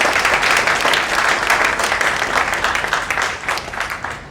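A crowd at a gathering breaks into steady, dense applause, many hands clapping together close and loud, gradually thinning toward the end.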